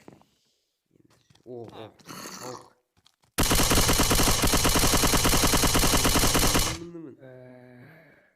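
An automatic gun fires in Minecraft, a loud, dense burst of rapid shots lasting about three seconds and stopping abruptly, with someone talking before and after it.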